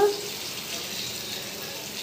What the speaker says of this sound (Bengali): পেঁয়াজটা প্রায় ভাজা হয়ে গেছে